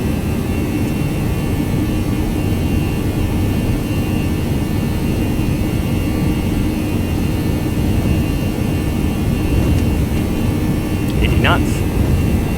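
A ToLiss A319 airliner in X-Plane 11 builds toward takeoff, its jet engines producing a loud, steady, unbroken roar with a faint rising whine near the end.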